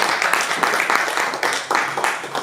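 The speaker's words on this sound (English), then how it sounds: "A round of applause for yourself." Applause from an audience at a women's conference inauguration in Berlin, steady clapping from many hands throughout, close and lively.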